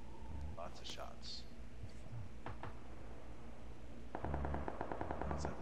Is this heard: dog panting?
no